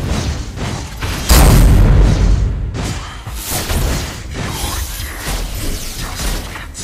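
Turret destroyed in the video game Mobile Legends: Bang Bang, a loud booming crash with shattering debris, followed by a busy run of further impacts and mechanical game effects.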